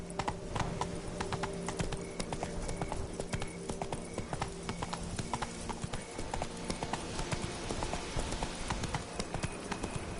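Roach the horse in The Witcher 3: Wild Hunt, hooves drumming in a rapid, steady galloping clip-clop that stays fairly faint and continuous with no talk over it.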